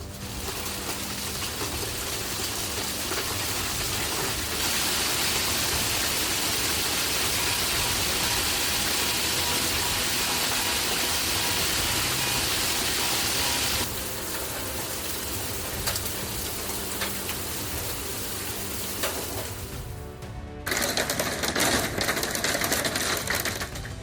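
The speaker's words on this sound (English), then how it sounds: "Hailstones the size of golf balls pounded Rapid City, South Dakota." Golf-ball-sized hailstones pound down on Rapid City, South Dakota, a loud dense clatter of impacts that intensifies then eases, ending in a harsher burst of rattling, with no speech.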